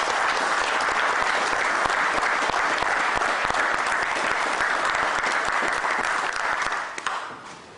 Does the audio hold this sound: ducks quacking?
no